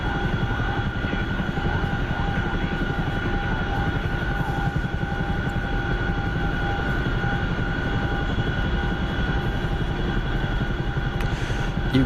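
A C-17 Globemaster jet aircraft in a video game drones steadily overhead, a continuous rumbling engine roar with a constant high whine and no talking.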